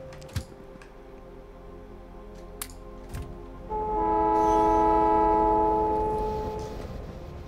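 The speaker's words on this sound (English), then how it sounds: "Why is it sending trains for so little stone?" Trains run in the Factorio video game, with a few sharp clicks and taps before a sustained tonal train horn swells in and lingers, loud and steady, then slowly fades.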